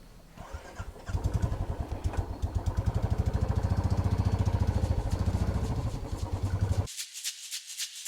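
A motorcycle engine runs at a steady idle outside a hotel, a close, rhythmic putter thumping evenly for several seconds before cutting off, with faint background noise after.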